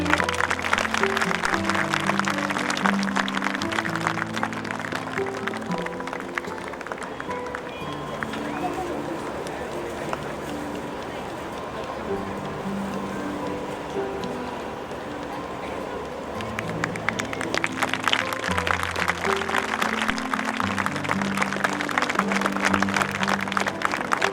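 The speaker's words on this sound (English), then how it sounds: "Round of applause, everyone." Dense, sustained applause from a large audience at a school Founder's Day ceremony for the release of the annual school magazine, loud and continuous throughout with music playing underneath.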